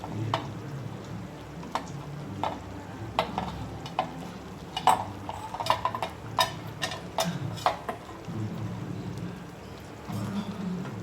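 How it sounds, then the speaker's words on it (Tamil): Buttermilk curry bubbles and simmers while lentil dumplings drop into it with soft plops and clinks, a scattered, irregular series of splashes close by. "இப்போ இந்த கொதிக்கிற மோர் குழம்புல இதெல்லாமே போட்டுடலாம்."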